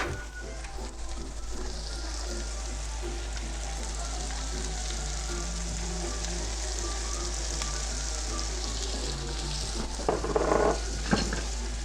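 Chopped onion frying in melted butter gives a continuous, even sizzle like light rain, close and steady throughout, with a few louder stirring clatters near the end and no voices.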